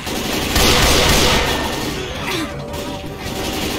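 Rapid gunfire in the zombie-wave shooter Dying Flame, a dense, loud burst of shots running continuously under the game's noise with no pauses.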